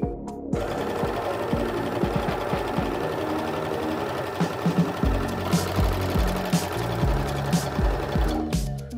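A Janome AirThread 2000D overlock machine stitches fabric with its differential feed set low, a steady fast mechanical whirr of needle and looper strokes running close and loud for most of the stretch, stopping briefly near the end.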